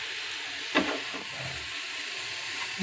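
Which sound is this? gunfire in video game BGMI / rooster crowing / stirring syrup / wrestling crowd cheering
stirring syrup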